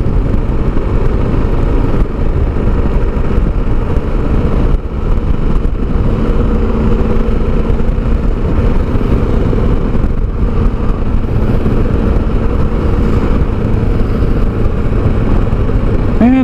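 Motorcycle engine climbing West Hill on West State Street in Sharon, Pennsylvania, a loud continuous near drone with steady low rumble and brief shifts in tone, with occasional talk over it.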